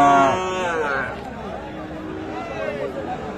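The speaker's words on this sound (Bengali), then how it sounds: "এই যে ছোট রেঞ্জের গরুগুলি" Cattle low loudly and close by at a busy rural livestock market in Bangladesh, where Friesian and crossbred bull calves are traded, with a long moo at the start and more mooing over background chatter and a nearby voice.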